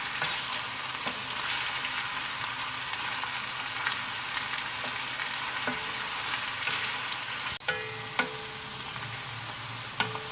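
Onions frying in reused, strained oil left from frying kebabs, topped up with fresh oil; a steady, dense sizzle continues throughout, with a few sharp clicks and scrapes of stirring near the end.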